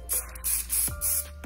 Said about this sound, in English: for this one, I'm only giving it a light spray